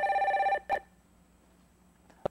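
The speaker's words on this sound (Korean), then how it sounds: "첫 번째 전화 빨리 받아볼게요." Telephone ringing for an incoming caller on a live Korean call-in broadcast, one loud electronic warbling ring burst, then a short second burst, a pause and a click.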